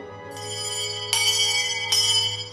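A handbell at an old one-room schoolhouse rings in three strokes, each bright clang sustaining and overlapping the next, fairly close over a low steady hum.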